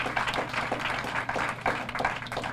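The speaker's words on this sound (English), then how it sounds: "give yourselves a round of applause for supporting these remarkable grads and students" Steady applause from a graduation audience, many hands clapping in an even crowd texture at moderate volume, without talk on top.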